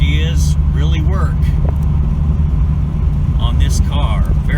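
Engine of a 1997 Ford Thunderbird with a custom one-off exhaust and modified factory intake, a steady low rumble running throughout underneath someone talking close by.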